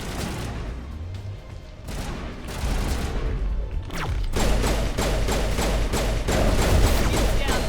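Sustained video game gunfire while shooting enemies in Mass Effect 1, with rapid bursts and booming impacts over a dense battle backdrop, growing louder and busier in the second half.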